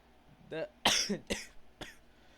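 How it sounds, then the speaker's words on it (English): A person with a bad cough lets out several sharp, close coughs in quick succession, each a short harsh burst with some throat rasp between them. "Sorry, I have bad coughs"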